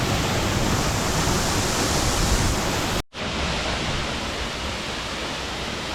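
Alder Creek Falls, a waterfall in Yosemite near Wawona, roars as a loud, steady broadband rush with no voices, broken only by a brief dropout midway before the constant pour resumes.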